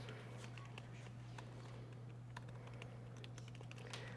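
Quiet, rapid clicking of keys on a computer keyboard, irregular taps over a low steady hum.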